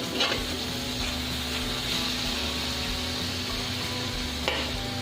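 Banana curry (kele ki sabzi) sizzles steadily in a frying pan as it is stirred, a close, continuous frying hiss with a couple of brief spoon scrapes near the start and end, no voices.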